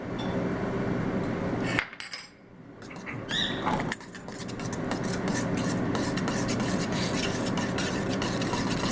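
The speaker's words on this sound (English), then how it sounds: "Then you mix that up." Spice powder and sugar are stirred together in a bowl, giving a continuous close scraping and clinking, briefly pausing then resuming with steady gritty rasping strokes; no talk.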